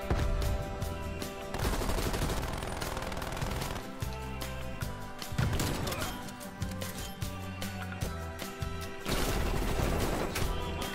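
Rapid XM4 rifle fire from Call of Duty: Cold War hardcore on the Satellite map rattles in repeated loud bursts, mixed with other weapons and game effects throughout.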